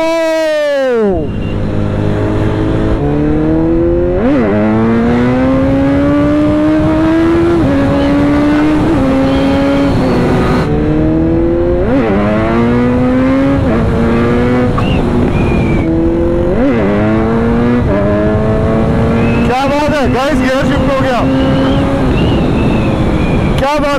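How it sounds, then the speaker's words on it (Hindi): A KTM RC 390 motorcycle revs hard, its engine pitch climbing in repeated sweeps and dropping sharply at each gear shift, loud and close throughout with voices talking over it. "तुम्हारे भाई ने अभी गियर शिफ्ट मारा था, बहुत तगड़ा गियर शिफ्ट था।"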